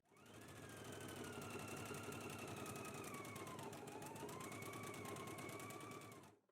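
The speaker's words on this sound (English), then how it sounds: "And I'm going to go to the sewing machine, and we're just going to stitch 5/8 of an inch down one side seam" A sewing machine runs steadily and loudly for about six seconds, sewing a 5/8-inch side seam on a toddler garment pattern piece, with its motor pitch dipping slightly midway before it stops.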